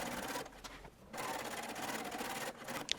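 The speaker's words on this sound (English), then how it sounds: "Now for the 2 rows of gathering stitching" A sewing machine runs a long basting stitch for two rows of gathering on a shirtwaister dress, a quiet steady whir in stretches broken by brief pauses.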